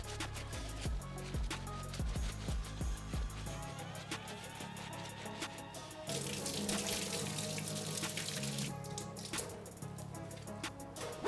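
Suede Air Jordan 4 shoelace being washed in fresh water with cleaning solution, with steady running and splashing water, squishing and rubbing sounds close up, no talking.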